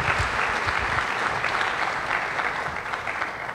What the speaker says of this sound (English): Round of applause for Mr. Lou James.